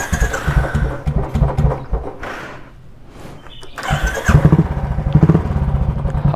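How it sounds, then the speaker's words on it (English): A Bullet motorcycle engine cranks and coughs, goes quiet briefly, then fires up and settles into a loud, close, thumping idle. "So let's make some noise. I'll just start the bike."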